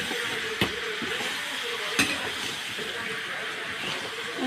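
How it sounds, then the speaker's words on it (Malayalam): Small onions sauté in a pan for a chicken curry, with a continuous hiss and sizzle and two sharp spoon clinks against the pan as they are stirred. "നമുക്ക് വഴക്കാം ഇത് നല്ലപോലെ വഴകേണ്ടതാണ് ചെറിയ ഉള്ളി ആയതുകൊണ്ട്"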